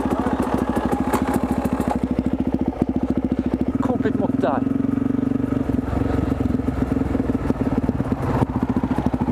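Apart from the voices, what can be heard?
motorcycle riding at night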